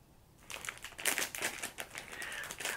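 A plastic bag around a set of wallets crinkles and rustles as it is opened, a close, busy crackling that continues throughout.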